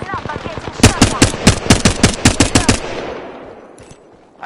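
Automatic weapon fire in the battle game Apex Legends: a loud, rapid string of close shots crackling in quick succession, then fading into a quieter tail. A voice is faintly present underneath.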